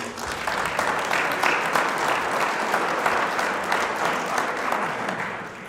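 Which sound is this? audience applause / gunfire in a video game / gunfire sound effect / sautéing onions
audience applause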